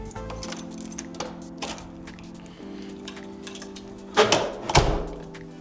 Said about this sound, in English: just put your key in the keyhole, turn it to the right, give it a push, and that's you in